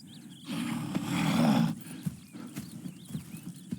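Horses in Red Dead Redemption 2, a burst of rumbling movement and snorting followed by scattered hoof clops, near and moderately loud, with no voices.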